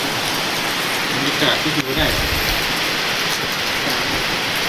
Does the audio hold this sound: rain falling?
yes